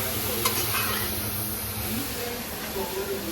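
Carrot halwa being stirred and roasted in ghee over a high flame, a steady frying sizzle and hiss with scraping strokes, with voices talking faintly over it.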